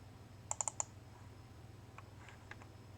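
A computer mouse clicked four times in quick succession, sharp and close, followed by a few fainter clicks in a quiet room with a low background hum.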